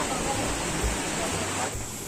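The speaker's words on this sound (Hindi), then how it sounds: "और ये बाहर से कलकलाता झरना, इसमें लोग सिक्के भी डालते हैं।" A gurgling waterfall outside the Vaishno Devi temple, where pilgrims toss coins into the water, gives a steady, close rush of broadband water noise that barely changes across the short stretch.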